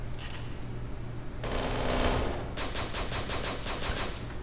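Desert Eagle pistol fire in the video game Kane and Lynch 2, heard as a dense run of sharp, loud shots in quick bursts over a steady game background, with no talking.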